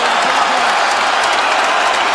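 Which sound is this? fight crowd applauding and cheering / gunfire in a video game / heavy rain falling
fight crowd applauding and cheering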